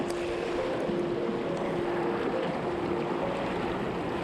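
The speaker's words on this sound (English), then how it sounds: "I placed a trekking pole into 30 inches of fast-moving water" Fast-moving river water about 30 inches deep rushes around a trekking pole planted in the current, giving a steady, loud broadband wash with a faint vibrating hum, continuous throughout and without speech.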